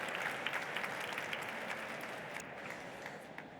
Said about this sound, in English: Ladies and gentlemen, please give Pascal a massive round of applause